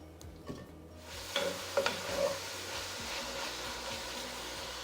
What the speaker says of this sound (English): Bacon is cooking up nicely.